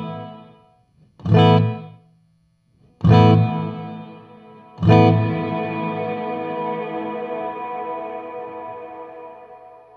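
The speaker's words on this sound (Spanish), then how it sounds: "Y tenemos también qué tanto se demora en durar la reverberación, que es el decay." Electric guitar through a Strymon Flint reverb and tremolo pedal: three loud strummed chords, the first two cut short and the last left ringing with a long reverb tail that slowly decays.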